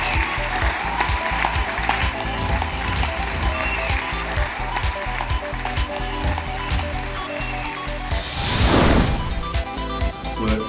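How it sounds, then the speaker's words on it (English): Audience applause at a legal awards ceremony, loud and continuous with music-like tones running beneath, swelling into a stronger burst of clapping near the end. "a round of applause."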